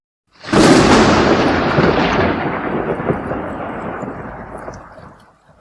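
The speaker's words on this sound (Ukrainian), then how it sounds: "Блискавка." A single loud crack of thunder bursts in, then rolls and rumbles on for several seconds, slowly fading out.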